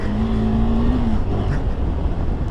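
Two motorcycles, a Hero Impulse and a KTM Adventure 390, climbing an off-road hill: a loud, close engine drone with a steady, droning pitch that rises briefly before settling, continuous for the whole stretch.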